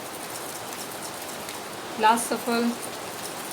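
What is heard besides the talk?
heavy rain falling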